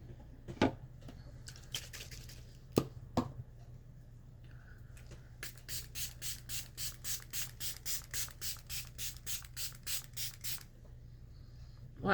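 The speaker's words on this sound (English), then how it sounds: "Okay, we're gonna do a setting spray." A makeup setting spray pump fires a rapid run of about fifteen short, even spritzes, preceded by a few scattered clicks and taps of handling the bottle, all close and fairly quiet.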